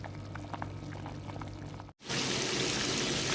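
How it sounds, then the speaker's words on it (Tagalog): Homemade tomato sauce simmers in a pan, giving a steady close bubbling hiss that briefly cuts out and then returns louder and denser, with no one talking. "Hinahayaan ko lang siyang kumukulo."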